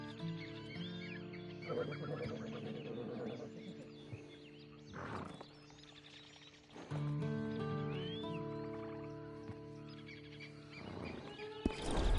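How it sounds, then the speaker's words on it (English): A horse neighing with clip-clop of hooves in a PS4 video game, several loud whinnies rising out of game ambience with birds, some bursts close and others more distant, over about twelve seconds. "And you better get on this horse."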